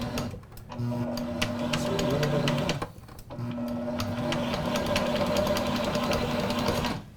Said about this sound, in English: I just want to mix this in until you see it fully incorporate